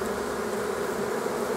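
Steady, dense buzzing of many honeybees at an apiary in early spring, a continuous close hum with no breaks.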